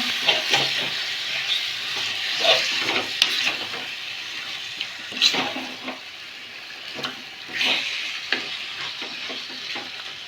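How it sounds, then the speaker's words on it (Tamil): Country chicken pieces cooking in ginger garlic paste with salt and turmeric sizzle steadily in a hot pan, with intermittent scrapes and stirs of a spoon standing out close up; no one speaks. "கொஞ்சம் நேரம் இஞ்சி பூண்டு பேஸ்ட்லேயே வேகட்டும்"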